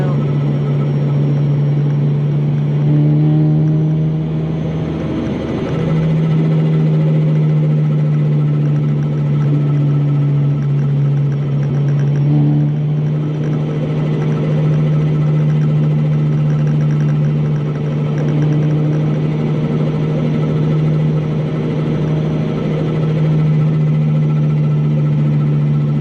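Supercharged 8th-generation Honda Civic Si engine pulling hard in fourth gear up a hill, a steady loud drone with a strong low hum that holds near throughout with slight rises in pitch, under light road noise.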